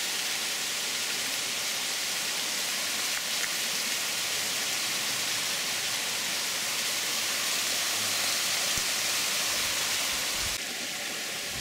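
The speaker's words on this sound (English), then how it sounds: "Two more waterfalls." Waterfalls at Cove Spring Park in Frankfort, Kentucky, spill in an unbroken, hissing torrent, a dense close rush of falling water that stays even and loud throughout with no voices.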